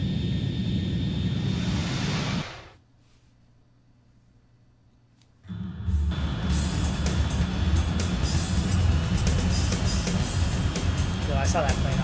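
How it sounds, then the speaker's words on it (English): Aircraft engines in the video game Ace Combat 2 drone as a loud, continuous roar that drops out almost completely for a few seconds and then returns with full force, with a voice talking over it. "I saw that plane off on my left"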